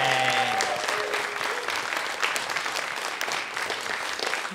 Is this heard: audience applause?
yes